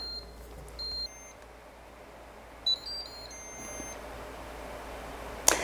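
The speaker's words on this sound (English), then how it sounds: "that beep means that the pressure cook time is up" Several short electronic beeps from an Instant Pot signalling pressure cooking is done sound in small bursts over quiet room tone, with a sharp click at the end.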